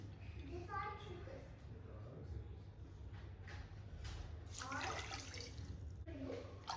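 Water pours steadily into a metal cooker for syrup, a splashing stream with a brief trickle near the end, under faint background voices and a low hum.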